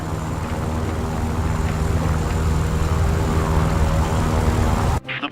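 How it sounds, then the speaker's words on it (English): A fighter plane's engine in the War Thunder combat flight game roars loud and steady as the aircraft accelerates down the runway for takeoff, a dense constant drone that cuts off abruptly near the end. "The plane has started accelerating."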